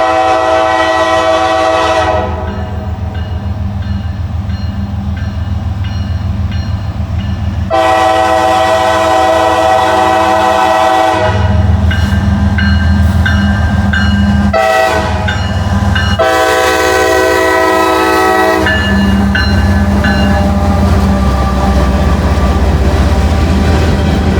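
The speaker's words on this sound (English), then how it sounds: "here comes our train" A Norfolk Southern train passes close by on a cool day with a loud, steady rumble and clatter, interrupted by long blasts of its horn.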